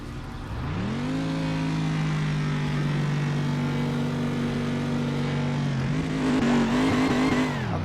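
Race car with manual transmission in Assetto Corsa, engine droning steadily under load, then a gear change and sharp revving with rising pitch near the end, loud and close with no talk.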